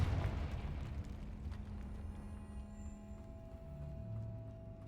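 In Hogwarts Legacy, a Confringo fire spell erupts as a dull, booming rumble that swells at the start and then stays as a continuous low roar, fairly soft overall, with no talking.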